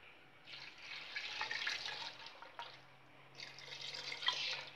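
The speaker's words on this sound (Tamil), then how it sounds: "இது மூங்குற அளவுக்கு தண்ணீர் விட்டுக்குருவோம்." Water poured into a pot of mutton kulambu, two bursts of splashing, running water, the second after a short pause, close and moderately loud with no talk.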